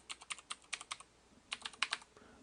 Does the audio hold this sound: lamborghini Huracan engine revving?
no